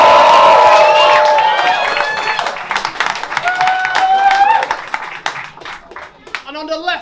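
A rap battle crowd claps and cheers loudly, the applause fading and thinning out while a host's voice rises above it.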